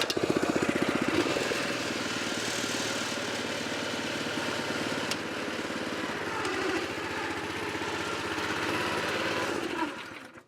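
A small engine on a golf-green aerator, low on oil, runs with a steady, buzzing mechanical chug, loud and close, for about ten seconds before it cuts out abruptly.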